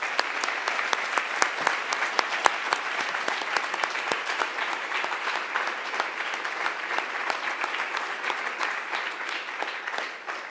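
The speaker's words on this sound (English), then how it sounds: "There's a lot of applause for those guys" Sustained audience applause at a hackathon award ceremony, dense steady clapping from a large crowd that runs for the whole stretch and tapers slightly at the end.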